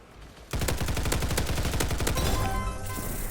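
Rapid automatic gunfire from a Roblox shooting game sounds as a dense burst of evenly spaced shots. It starts abruptly after a quiet moment and continues loud for nearly three seconds with no talk.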